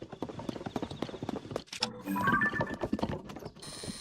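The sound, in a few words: horse hooves in video game Zelda: Tears of the Kingdom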